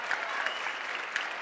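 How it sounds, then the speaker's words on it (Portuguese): A church congregation claps in a short burst during an evangelical sermon, a fairly faint, even patter of many hands heard from a distance, with no voices on top. "então vai aplaudir, vai."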